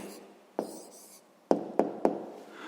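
Pen scratching and tapping on paper while a math answer is written down, with a few sharp close taps between quiet strokes.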